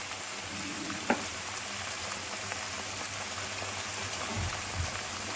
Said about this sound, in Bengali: এবার ওই তেলের মধ্যে যে মশলাটা বেটে রেখেছিলাম, মশলাটা ভালো করে কষিয়ে নেব।